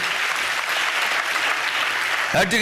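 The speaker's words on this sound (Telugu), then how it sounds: "చప్పట్లు కొడుతూ దేవునికి స్తోత్రాలు చెప్దాం." A church congregation claps hands in praise during a New Year sermon, a dense, continuous roar of applause from a crowd, steady throughout, with a sharp shift near the end as a voice cuts in.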